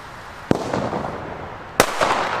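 Two sharp firecracker bangs about a second apart, each a loud crack followed by crackling debris, with background noise between.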